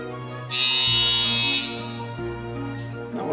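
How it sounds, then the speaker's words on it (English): A loud, steady electronic buzz with a bright high tone sounds for about a second, over a sustained low droning hum. "buzzer sound"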